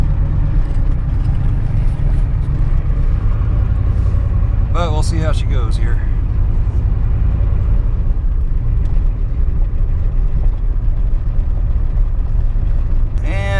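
A 1990 Ford F350 with the 7.3 IDI diesel runs steadily, a constant low rumble and drone throughout, with someone talking over it partway through.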